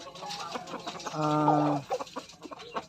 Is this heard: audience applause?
no